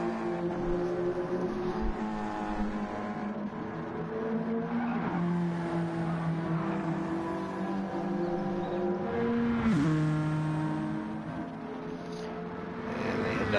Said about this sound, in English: Oh, he's drifting it through the corner.